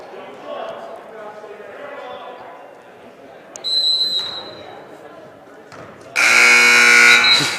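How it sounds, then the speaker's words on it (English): A gym scoreboard buzzer at a boys' high-school basketball game goes off unexpectedly, a brief high tone midway and then a loud sustained blast near the end, under ongoing commentary. "the scoreboard just sounded there for some odd reason. Maybe that's the buzzer that we didn't hear in the JV game."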